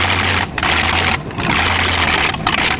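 Chevrolet engine pulling a car on a test drive after a tune-up, with a suspected faulty power valve and a broken gasket, giving a steady loud rumbling drone with brief dips as the throttle eases.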